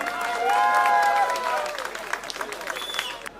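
An audience at an election campaign event breaks into applause and cheering that swells, then thins into scattered claps, with some tonal sounds over it at first.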